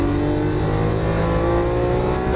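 A Lamborghini Aventador accelerating hard on a Las Vegas race track, its engine roaring loud and close with a steady, rising drone that holds throughout, no voices over it.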